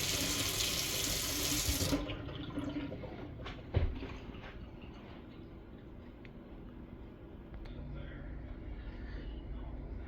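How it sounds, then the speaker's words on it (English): An American Standard Maven kitchen faucet gushes loudly into the sink for about two seconds, then shuts off, followed by a faint knock and quiet room tone. "that's your American Standard Maven kitchen faucet"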